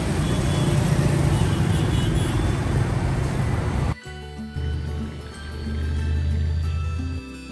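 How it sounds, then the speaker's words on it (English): Pickup truck engine running nearby, a steady loud rumble that cuts out abruptly partway through, followed by a lower idling drone that swells again toward the end. "Pickup truck."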